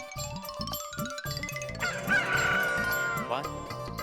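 A rooster crows loudly and close in a drawn-out call as it emerges from a cupboard indoors, with background music and rhythmic beats around it.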